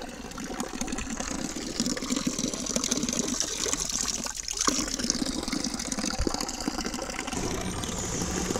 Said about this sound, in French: C'est bien, cette fontaine, c'est de l'eau